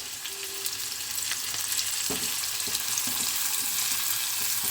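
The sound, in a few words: onions frying in oil over high flame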